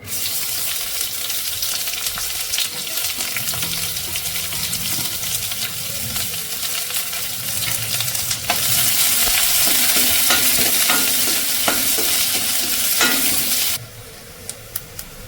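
Chopped onions and curry leaves fry in a pan for a taro curry, giving a loud, steady, close sizzle with occasional stirring scrapes. It grows stronger partway through, then drops sharply near the end, leaving a few faint clinks.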